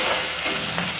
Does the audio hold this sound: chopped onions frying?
yes